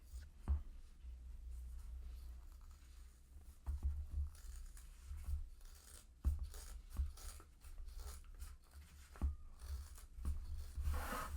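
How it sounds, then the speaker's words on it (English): Scissors snip and crunch through a stiff zipper edge in a series of short, uneven cuts, with rustling and rubbing in between, close up and fairly quiet. "I'm going to do the same and cutting off that edge of the zipper"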